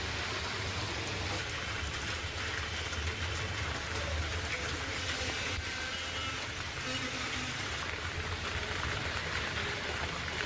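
Heavy rain falls during flash-flood weather in Jammu and Kashmir, a dense, even hiss of downpour that continues without a break and sits fairly quiet and distant.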